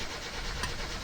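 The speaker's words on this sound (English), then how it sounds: "Attempt 2 at starting the car." Starter cranking on a car in My Summer Car, a steady, rough grinding whir close up with a faint knock partway through, no voices.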